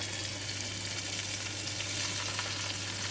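Salmon steak frying in a pan, a steady, dense sizzle holding evenly throughout with no talking.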